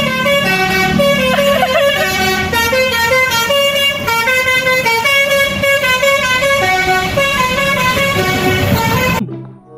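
A Persija Jakarta bus passes close by, its musical multi-tone horn playing a long, loud melodic sequence over engine rumble for most of the clip before cutting off at the end.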